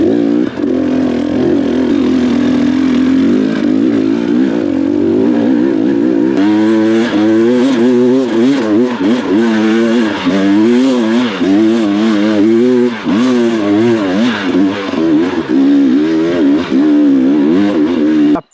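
Dirt motorcycles ride a freshly cut bush trail in Tenterfield, one engine close and loud, droning steadily at first and then revving up and down in rapid repeated surges as the bike works through the track.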